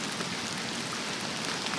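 Steady, dense rain falls in the mountains during an escape from valley flooding, a constant close hiss of drops on surfaces with no breaks and no voices.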